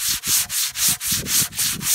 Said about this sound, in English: A little bit of sanding, that should be fine.